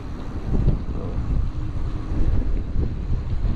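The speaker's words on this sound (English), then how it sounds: "only wind, as you can hear now." Steady, loud wind rushing over the microphone in a constant buffeting roar while riding a Neodrives Xion Z15 electric bike, with no voices and no motor noise.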